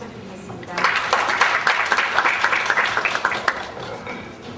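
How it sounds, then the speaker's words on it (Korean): Applause from a conference audience welcoming a speaker at a Korean global branding event, rising quickly into a dense burst of many hands clapping, then thinning and fading out, with a voice heard faintly before it starts. "큰 박수 부탁드리겠습니다."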